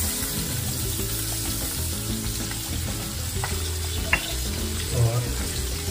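Curry leaves, green chili and ginger fry in hot butter with cumin, asafoetida and flour, giving a steady dense sizzle close up with occasional stirring and scraping of a utensil in the pan.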